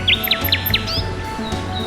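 A common myna calls in a series of quick, bright chirps and squeaky whistled notes, close and clear over a faint steady background hum.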